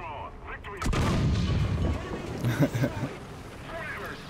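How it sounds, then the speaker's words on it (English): A 128 mm tank gun firing in War Thunder, one sharp heavy boom followed by a rumbling tail, with voices talking over it. "Shooting things in the side with this 128 never gets old."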